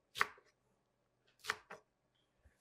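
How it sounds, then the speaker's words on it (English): Leafy greens being chopped on a cutting board for a sweet potato curry, with two sharp knife chops about a second apart, each followed by a softer tap, in a quiet room. "Chop them into chunks and then add it to the curry."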